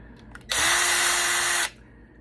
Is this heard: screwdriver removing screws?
yes